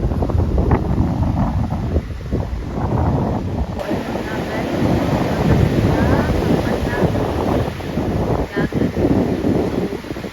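Ocean surf and gusting wind at Amelia Island beach, Florida, make a steady broad roar with buffeting rumble on the microphone, while people talk over it for much of the time.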